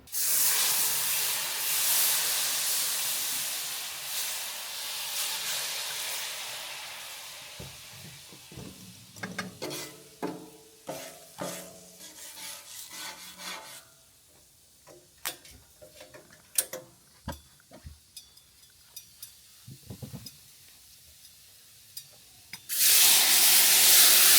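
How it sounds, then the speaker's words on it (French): Steam hisses under a cooking cloche set over food on a Vivaplancha Flamenco plancha griddle, a broad steady hiss at first, then quieter with scattered ticks and clicks before a loud burst of hiss returns at the end. "Laisser pendant 3-4 minutes la cloche qui finit de cuire les aliments avec la vapeur qui génère."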